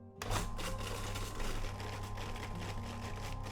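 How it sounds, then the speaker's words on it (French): A mixer blending lemon with its pulp, heard as a loud, steady whirring motor that starts abruptly and runs without a break to the end. "je vais mixer un peu pour essayer de réduire un peu le citron en bouillie d'abord"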